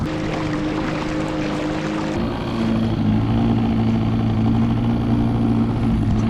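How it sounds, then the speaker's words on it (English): Small outboard motor on a dinghy running steadily, a loud close continuous drone that deepens and grows slightly stronger partway through, with water wash beneath. "I've had lots of outboard problems, but now it runs great."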